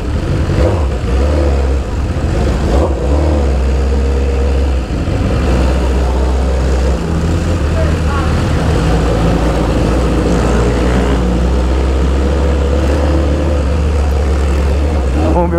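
A BMW S1000RR sport motorcycle engine drones and revs steadily throughout, a continuous low roar, with faint voices mixed beneath.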